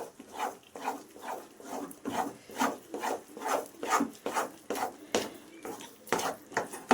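Dry semolina (rava) being roasted in a pan for mango rava laddu, stirred with a spoon in a steady rhythmic scrape about twice a second, close and fairly soft, with no voices.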